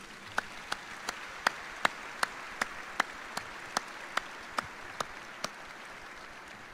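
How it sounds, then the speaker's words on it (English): Faint, sparse hand claps ring out at a steady, evenly spaced pace during a military change-of-command ceremony, each crisp clap standing alone against a quiet background. "please join us in a round of applause for all of our distinguished guests"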